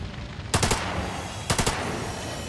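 Gunshots in The Lamplighters League, a tactical video game, ring out as two quick bursts of three or four sharp shots each, about a second apart, loud and close over a steady background wash.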